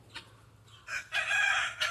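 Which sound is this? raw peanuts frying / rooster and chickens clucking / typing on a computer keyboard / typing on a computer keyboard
rooster and chickens clucking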